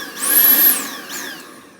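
A Dyson V8 cordless vacuum cleaner with a suspected airflow restriction whines at high pitch, rising to a steady peak and then dropping away. A second, shorter dip and recovery follows, loud and close with no talk.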